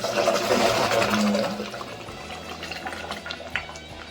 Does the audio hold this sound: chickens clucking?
no